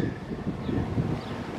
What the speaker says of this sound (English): You can probably hear a little wind shear.